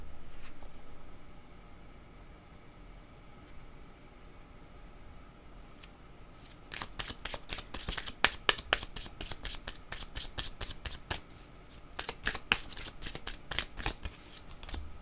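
Tarot cards are shuffled and drawn by hand. After several seconds of near quiet, close, crisp riffling and flicking of cards bursts out in rapid rattling runs that carry on to the end.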